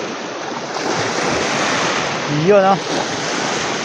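Strong waves wash against a lake shore near Talim Island, Binangonan, Rizal, a loud continuous surf roar mixed with wind noise, with a short spoken exclamation partway through.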